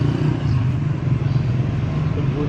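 A motorcycle engine rumbles steadily nearby on a street in Quiapo, a low continuous drone that sits fairly loud in the mix.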